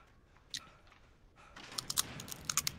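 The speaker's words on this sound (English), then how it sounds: "Y'all want some chip ASMR?" Potato chips being crunched and chewed close up, starting with a few sparse crunches and building into a quick run of sharp, loud bites near the end.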